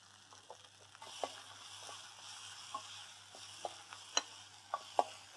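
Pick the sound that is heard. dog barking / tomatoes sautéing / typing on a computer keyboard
tomatoes sautéing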